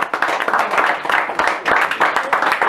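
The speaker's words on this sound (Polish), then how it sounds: "Wielkie brawa." A crowd applauds a prize winner at a spinning and fly-fishing competition for trout and grayling, producing a dense, continuous burst of many hands clapping at close range.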